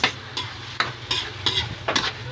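Ingredients sautéing in a pan for spaghetti sauce, stirred with a spoon: regular scraping strokes roughly every half second over a constant close sizzle, fairly loud, no speech.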